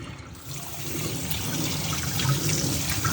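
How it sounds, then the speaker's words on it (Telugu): Water poured over boiled vermicelli in a perforated colander, a steady rushing trickle that builds slightly and runs continuously and fairly close, with no voices. "ఇలా ఉడికించుకున్న తేమని ఒక చిల్లుల గిన్నెలో వేసుకొని కొంచెం వాటర్ వేసుకోవాలి"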